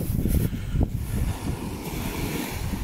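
Strong wind roars steadily across the shore at Point of Ayre on the Isle of Man, with a loud, constant rush and buffeting against the microphone and surf blended underneath.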